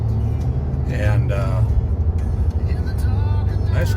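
Cabin sound of a new Ram 2500 Cummins diesel pickup on its first drive, a steady low engine and road rumble heard from inside, with voices talking over it.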